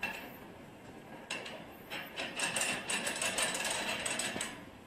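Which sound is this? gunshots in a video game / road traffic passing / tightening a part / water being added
tightening a part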